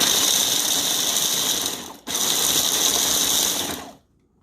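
A loud, close Walmart Mainstays 1.5-cup electric mini food chopper chopping peanuts whirs in two bursts with a brief pause between, a high mechanical grinding buzz that stops abruptly.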